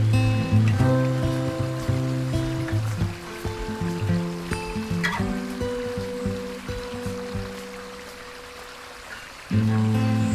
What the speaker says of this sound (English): the river steadily flowing on the left of us, the early morning rain is dripping from the freshly opened canopy above our head